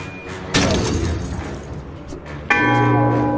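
A deep, resonant bell tolls in The Banner Saga 3 during a funeral at Aarberang, two strikes a couple of seconds apart, each ringing out with a long metallic decay over a bed of game ambience.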